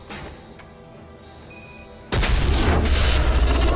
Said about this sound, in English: to blow that door off the hinge, I feel like that explosive would have hurt us as well